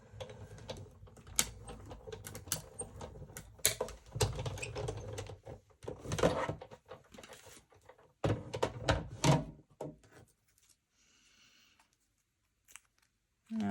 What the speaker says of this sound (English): So let me quickly die cut.